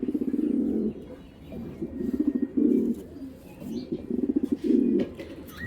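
A pair of big racer pigeons coo up close in repeated low throaty rolls, several phrases in a row with brief pauses between them.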